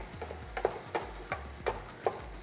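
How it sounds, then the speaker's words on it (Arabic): A cooking spoon mashes soft oven-baked pumpkin for soup, making a handful of soft, damp thuds and squishes at an uneven rhythm, close and fairly quiet with no talking. "ملعقة الطبخ اللي عندي بس بهرسه"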